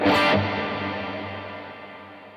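A distorted, overdriven electric guitar chord through a Headrush drive block rings out loudly, then sustains and slowly decays with a thick, fuzzy tone and a touch of plate reverb.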